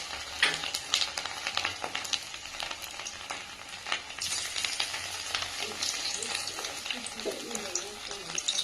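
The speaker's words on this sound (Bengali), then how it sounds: "এই মাখানো ফুলকপিগুলোকে তেলে ছেড়ে দেবো।" Batter-coated cauliflower fritters are dropped one by one into hot oil and fry with a loud, crackling sizzle and bursts of bubbling, with scattered clinks close by and some talk over it.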